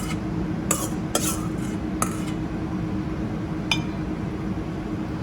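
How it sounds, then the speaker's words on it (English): Food is spooned into a bowl at a Mexico-themed restaurant tasting, with a handful of bright, separate clinks of a metal spoon on a ceramic dish set over a constant low room hum. "you're gonna pick out a bowl, just spoon everything into it"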